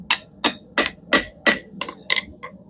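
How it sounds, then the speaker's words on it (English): A hammer strikes two large custom metal hooks lying side by side: eight sharp, ringing blows in a steady rhythm that turns slightly lighter and quicker toward the end. "Another thing we can do is hammer them both side by side."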